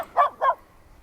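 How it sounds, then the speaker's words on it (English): Two quick, sharp barks from a dog, close and fairly loud, followed by quiet. "sorry about the barking dog"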